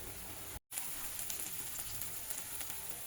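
A paste of garlic, onion, ginger and green chilli sizzles in hot oil in a home kitchen while banana-flower curry is made. There is a soft, continuous crackle, a brief dropout near the start, then scattered pops over the hiss.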